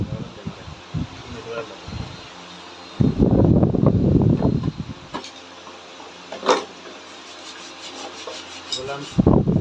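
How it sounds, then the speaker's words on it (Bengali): Hand finishing of a machine-carved wooden design, scraping and rubbing the background clean: repeated close rasping and rubbing strokes in bursts, with a louder scrubbing stretch midway and brief sharp ticks between. "পরে হাতে ফিনিশিং দেওয়া হচ্ছে, জমিগুলা পরিষ্কার করা হচ্ছে, সাফ করে দেওয়া হইতেছে"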